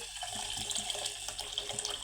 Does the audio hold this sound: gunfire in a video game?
no